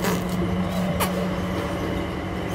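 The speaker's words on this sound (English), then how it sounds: "So this is a train, guys," An airport train carrying passengers, heard as a steady, fairly loud rumble of running rails and motor with one brief sharp rattle midway, and no talk.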